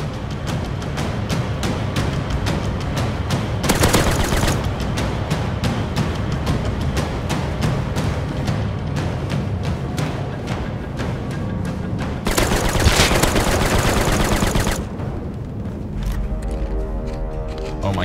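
Turret gunfire in the survival game Rust rattles almost nonstop for eighteen seconds, loud and close, with two heavier, denser bursts partway through and no voices.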